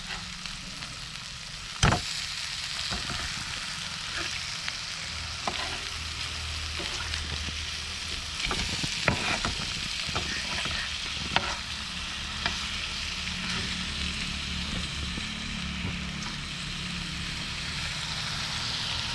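Fish pieces frying in a pan for a roadside-style fish fry, a continuous loud bubbling sizzle of oil close by, with a few brief clinks and stirs over the sustained hiss.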